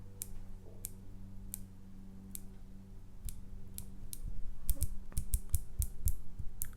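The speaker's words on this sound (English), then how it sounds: "This is a bi-directional bezel," Tudor Black Bay GMT bi-directional bezel being turned, giving a series of sharp, close, quiet clicks, sparse at first then quicker and denser toward the end.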